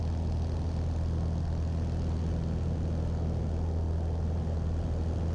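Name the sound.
light aircraft propeller engine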